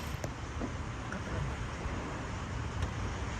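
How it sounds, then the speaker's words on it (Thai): A red 2007 Toyota Vios 1.5E with its factory body idles quietly in place, giving a low, steady, faint rumble with no revving and no voices. "เครื่องยนต์นิ่งๆเงียบๆสตาร์ทเครื่องอยู่นะครับ"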